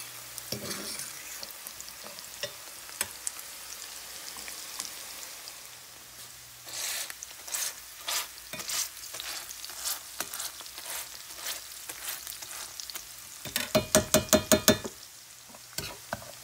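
Onions cook in a pan with a soft, low sizzle, punctuated by sharp clicks and scraping bursts from stirring, including a rapid run of taps near the end.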